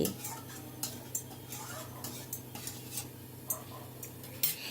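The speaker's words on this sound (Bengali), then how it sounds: "গ্যাসের ফ্লেমটা হাইতেই রেখেছি, আর অনবরত কিন্তু নাড়তে হবে।" A spoon stirs cabbage masala in a pan over a high gas flame, making a quiet, irregular series of metallic taps and scrapes against the pan over a soft background hiss.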